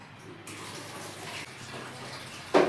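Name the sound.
child playing with running water in the bathroom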